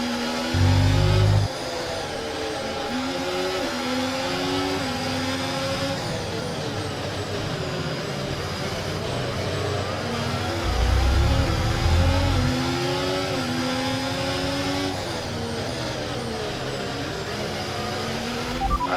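A Formula 1 car in the F1 24 video game racing at the Qatar night race, its engine droning steadily with rising and falling revs and gear shifts, with louder low bursts near the start and around the middle.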